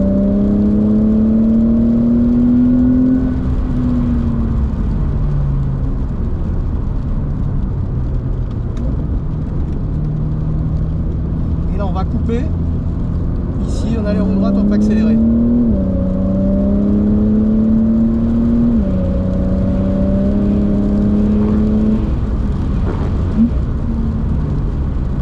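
Porsche race car engine on a track, a steady loud drone with rising and falling pitch as it accelerates and shifts through gears, sustained throughout with no talk.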